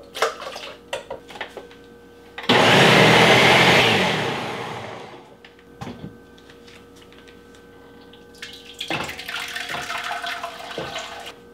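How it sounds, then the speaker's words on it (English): Thick homemade sauce pours from a big measuring cup into a heavy-bottomed pot in a kitchen: a loud, rushing pour lasting a few seconds, then scattered clinks of cookware and a second, softer stretch of pouring and scraping. "I'm also pouring this into a heavy bottomed pot."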